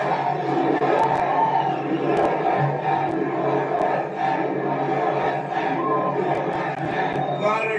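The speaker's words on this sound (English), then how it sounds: "What a crowd." A big crowd at a Trump rally in Iowa roars and cheers steadily, with chanting voices that swell and hold throughout, far off but dense.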